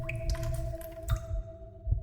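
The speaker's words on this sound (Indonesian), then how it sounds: "Sudah bisa dipastikan itu suara air ketuban yang sudah pecah." A few wet drips and squishy splats of amniotic fluid as waters break, three soft close drops over a low hum.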